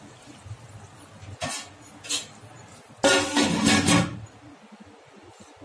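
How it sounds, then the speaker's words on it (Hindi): Half a glass of water poured into a pot of mutton biryani, a short splashing pour that is loud and close, after a few brief clinks of kitchenware. "थोड़ा पकने के लिए 1/2 ग्लास पानी डालिए"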